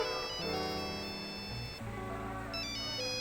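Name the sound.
telephone ringtone ringing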